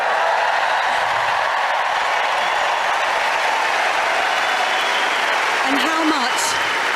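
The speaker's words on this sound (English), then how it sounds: "Thank you for cheering for me." Wimbledon Centre Court crowd at the ladies' final, loud sustained applause and cheering filling the whole stretch, with a whistle rising briefly near the end.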